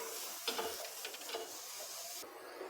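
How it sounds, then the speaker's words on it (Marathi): Steady sizzling of onion frying on a hot griddle, with a few light stirring scrapes; the sizzle cuts off abruptly near the end. "इथे आपण तवा ठेवलेला आहे तापायला तर कांदा घालू आपण"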